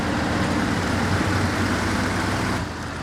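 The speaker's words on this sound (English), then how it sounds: "by the sound of it, this truck sounds like an absolute beast" A big off-road truck engine rumbles loudly and steadily, a deep continuous drone up close with no talking.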